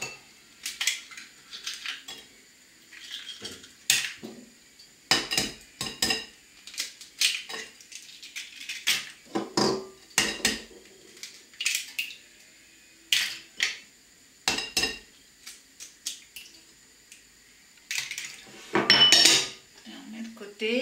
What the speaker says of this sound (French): battre les œufs